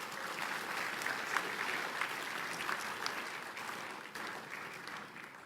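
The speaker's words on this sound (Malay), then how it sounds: "Berikan tepukan gemuruh pada ibu bapa masing-masing." Applause at a university convocation ceremony honoring graduates' parents, a fairly distant, even wash of many hands clapping that holds steady and thins slightly toward the end.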